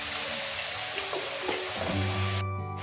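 Spices mixed in a hot pan for Punjabi chole, a close crackling sizzle with soft stirring scrapes, followed by a brief low hum near the end.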